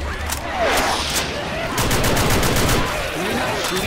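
Rapid bursts of gunfire in the zombie shooter Left 4 Dead 2, dense overlapping shots running throughout with faint voices in the background.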